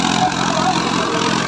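An Arjun 605Di tractor engine drones steadily while pulling a Field King 20-disc harrow, a loud, continuous mid-low rumble with no speech over it.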